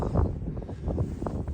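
Wind blowing across an open fishery, a low steady rumbling buffet against the microphone, moderately loud and continuous with no voices.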